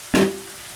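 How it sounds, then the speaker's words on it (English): Fried ramen noodles get stirred in a frying pan with beef bouillon and soy sauce, giving one short sharp scrape and sizzle that quickly fades to a faint hiss. "And now we want to stir our noodles."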